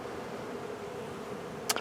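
Honeybees at a hive checked in January for dry sugar feeding, a steady low hum filling the whole stretch, close and even, with a brief sharp click near the end.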